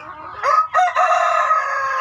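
A young rooster of a prized breed crows once, loud and close, in a single strained call with a short break partway through, on a small farm.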